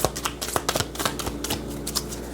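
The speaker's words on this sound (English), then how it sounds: "We only get one more shuffle." A deck of cards being shuffled by hand, a rapid, close, crisp riffling patter of card edges flicking and tapping for a few seconds, with no talking.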